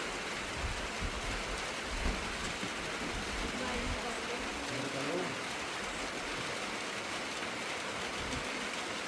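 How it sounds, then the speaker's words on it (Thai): Steady rain falls outdoors in rural Thailand, a dense continuous hiss with low rumbling underneath, moderately loud and unbroken throughout, while people talk faintly in the background. "ฝนมาพี่น้องฝนตกฝนตกฝนตกฝนตกฝนตก"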